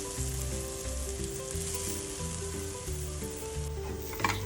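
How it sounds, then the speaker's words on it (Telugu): Freshly ground grated coconut fries in two spoons of ghee over a low flame for coconut laddu. A continuous close sizzle holds steady throughout, joined near the end by a brief stirring scrape, with no voices. "దీన్ని లో ఫ్లేమ్లో 2 లేదా 3 నిమిషాల పాటు ఫ్రై చేసుకోవాలి."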